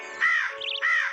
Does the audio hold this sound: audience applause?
no